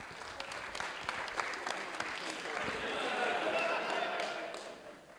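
An audience at a tech talk gives speakers a sustained round of applause, many hands clapping at a steady level that swells and then tapers off toward the end.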